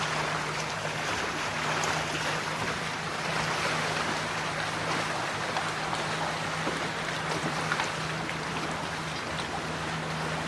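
Small boat rocking on the water beside abandoned farm ruins in York County, Pennsylvania: constant wind-blown lapping of water and a low steady hum, close and unbroken, with no talk.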